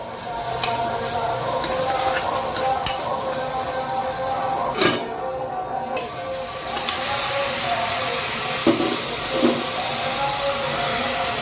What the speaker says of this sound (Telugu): అల్లం వెల్లిగడ్డ, కొంచెం పచ్చివాసన పోయేదాకా వేగాలి